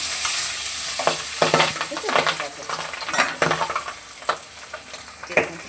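Fish sizzles and crackles loudly in a hot frying pan, with irregular spattering pops and clinks of a utensil stirring, alone with no voices.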